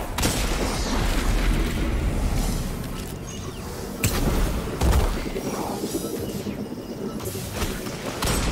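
A grenade blast in the sci-fi shooter Destiny 2, one booming hit and a heavier second burst rising out of steady combat noise and rumble.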